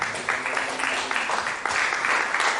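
A church congregation applauds the Lord in rhythmic bursts of clapping that rise and fall, loud and close, with a few voices mixed into the crowd.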